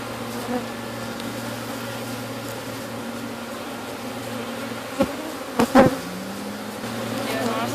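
Honey bees buzz around a hive that is being split. A dense, constant drone fills the scene, broken by a few soft knocks and bumps partway through.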